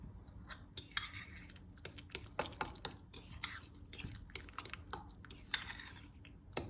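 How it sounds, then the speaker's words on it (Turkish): Mashed avocado with salt and lemon being stirred in a bowl, giving soft, wet squelching and light tapping strokes in an irregular rhythm, close and quiet. "Bir güzel karıştıracağız."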